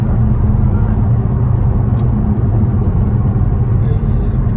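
A four-litre Audi S7 driving on a road, its engine a steady low rumble and whir with road noise, continuous and close throughout.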